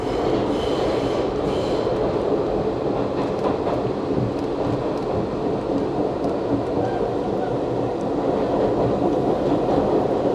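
A New York City subway train rumbles steadily and loudly throughout, with continuous rail and wheel noise, faint squeals near the start, and no talking.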